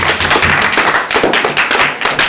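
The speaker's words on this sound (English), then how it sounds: "I want to give a round of applause to you guys" Applause from a convention audience at a live podcast taping during an anime festival, a dense sustained burst of clapping filling the room for a couple of seconds.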